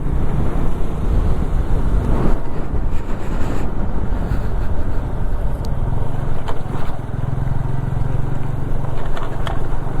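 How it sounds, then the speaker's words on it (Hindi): A waterfall pouring from high above along a mountain road on the Dharchula to Gunji route of the Adi Kailash pilgrimage: a loud, continuous close roar of rushing water, buffeted by wind on the microphone throughout. "अच्छा लग रहा है झरना"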